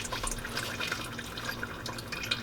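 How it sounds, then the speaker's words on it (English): Engine oil dripping from the drain of a Subaru WRX during an oil change: a steady, faint trickle with scattered drips against low background noise, no talk. "we'll let that drain completely till it starts to drip"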